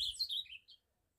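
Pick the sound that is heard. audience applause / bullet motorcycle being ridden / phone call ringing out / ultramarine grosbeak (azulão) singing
ultramarine grosbeak (azulão) singing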